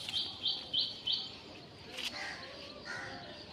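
Four quick, evenly spaced high chirps come from domestic Madras flying pigeons kept at a home loft, followed by softer scattered calls and a brief noisy burst over a quiet background hum.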